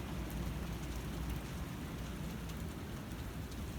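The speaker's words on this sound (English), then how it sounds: "Some rain mixing in too." Rain mixed with graupel falls steadily during a May snow squall in Westfield, Massachusetts, a dense, even hiss of pattering pellets and drops with strong wind, continuous throughout.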